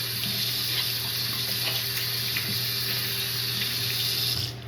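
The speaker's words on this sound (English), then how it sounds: "Hold on, let me wash my hands." Tap water runs steadily into a sink while hands are washed under it, a continuous close hiss and splash with no talking, cutting off near the end.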